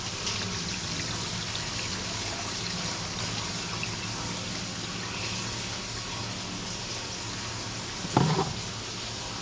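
Water runs and trickles steadily while tamarind leaves are washed for an old-style fish curry, a continuous close hiss with a brief splash near the end.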